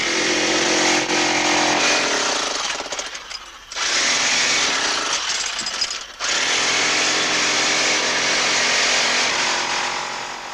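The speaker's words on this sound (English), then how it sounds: "Jean always operates the drill, while Ray shovels." A drill runs at a small sapphire mine, a loud, harsh, continuous mechanical roar that briefly drops out twice before starting up again and running on steadily.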